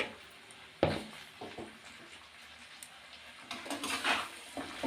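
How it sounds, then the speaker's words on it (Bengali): Chopped bottle gourd being stirred in a cooking pot with turmeric, salt and green chilli, making soft scraping and clattering of a spoon against metal in irregular bursts, fairly close. "এবারে ভালো করে নাড়াচাড়া একটু করে নিতে হবে"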